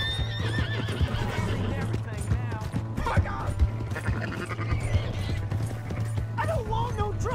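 A horse whinnies in the Red Dead Redemption video game, its neigh rising above hoofbeats, continuous game ambience and a low steady hum, with people talking throughout.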